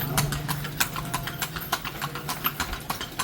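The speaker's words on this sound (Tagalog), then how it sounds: "Grabe, lakas ng kabayo." A horse pulling a carriage in Vigan clip-clops along at a steady trotting rhythm, sharp hoofbeats ringing close and clear on the street.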